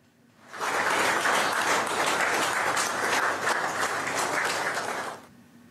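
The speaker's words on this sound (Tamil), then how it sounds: "அலுவலக அதிகாரிகள் மற்றும் ஊழியர்கள் கரகோஷம் எழுப்பி பிரதமர் நரேந்திர மோடியை உற்சாகத்துடன் வரவேற்றனர்" Office officials and staff greet Prime Minister Narendra Modi with a burst of applause that starts abruptly, holds as dense steady clapping for about five seconds, then stops.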